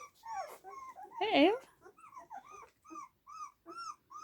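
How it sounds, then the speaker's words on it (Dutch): Puppies whimper, yip and give small growls in short bursts, close by, with one longer rising whine in the middle; a voice speaks briefly. "die de puppies nog even verzorgt"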